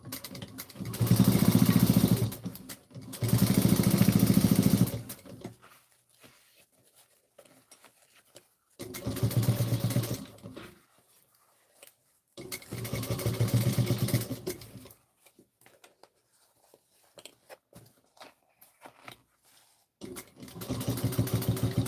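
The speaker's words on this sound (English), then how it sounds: "we're going to top stitch at 1/8 of an inch" A sewing machine top stitching fabric at an eighth of an inch runs in five loud, whirring bursts of a few seconds each, separated by near-silent pauses.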